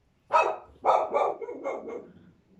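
A dog barks several times in quick succession, loud and close, with the later barks trailing off a little softer and no talking over them.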